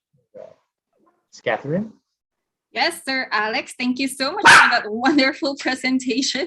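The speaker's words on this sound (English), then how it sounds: "Sorry about that, that's my dog." A pet dog barks a few times in a home during an online presentation, sharp bursts mixed in among close conversational speech.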